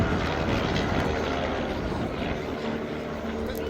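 Van's RV-8 aerobatic planes with Lycoming IO-360 engines flying in formation at the Duxford summer air show, a loud, steady propeller-engine drone that fades slightly as they pass.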